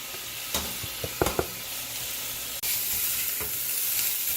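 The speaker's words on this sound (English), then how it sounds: "We got the leftover drippings here, so now we are sweating out some diced yellow onion" Diced yellow onion sweating in leftover ground beef drippings for Frito pie gives a steady close sizzle, with a few sharp scrapes and stirring clicks early on and a louder hiss in the last half.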